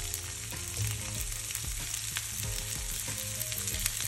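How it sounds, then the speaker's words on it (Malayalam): Chopped garlic sizzles in hot coconut oil in a pan, a steady bright crackle with occasional stirring clinks and scrapes, close and continuous with no talking. "ആദ്യം ചൂടായ ചട്ടിയിലോട്ട് വെളിച്ചെണ്ണ ഒഴിച്ച്"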